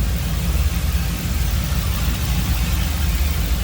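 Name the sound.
Chevrolet Camaro 5.3 LS V8 engine idling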